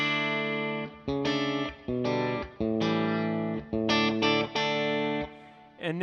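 An electric guitar runs through a Cloud9 Reverb pedal on a pedalboard, playing sustained chords and notes with a lush, distorted, shimmering tail. The phrases are separated by short gaps, and the playing is close with no talking.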